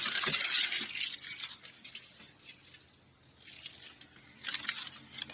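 Sealed Walmart package envelope being torn open, a loud close ripping of plastic at the start, a quieter pause, then more tearing and crinkling bursts toward the end, no voices.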